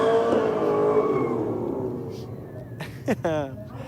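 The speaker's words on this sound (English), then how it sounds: "both the Commodores come out and put on a good skid both sides of the racetrack" Holden Commodore race cars skidding at a drag strip: loud engine drone and tyre noise slowly fade, then sharp bursts of screeching and revving near the end, with a commentator talking over them.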